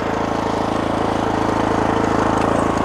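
A Neva walk-behind tractor engine idles close by with the throttle eased off, a steady, even mechanical chug that holds throughout, with no voices.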